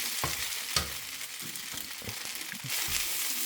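Shrimp sizzle and crackle as they fry and get stir-fried in a pan, with steady hissing oil throughout and scattered clinks and scrapes from a utensil, close and fairly loud.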